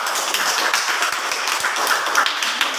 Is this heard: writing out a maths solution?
no